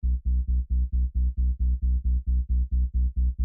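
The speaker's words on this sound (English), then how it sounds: "this is the only bass, the sub bass I mean, and it's made in phase plant." Deep, buzzy synth sub bass from a distorted, low-pass-filtered saw wave made in Phase Plant, pulsing in a steady rhythm of short repeated notes, heavy and low with no voices.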